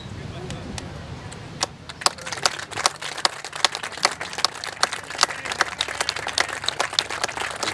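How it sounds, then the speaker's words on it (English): A sparse crowd at a men's college soccer match applauds an injured player, scattered sharp claps building in density, moderately distant over a low background rumble. "He's going to get a big round of applause."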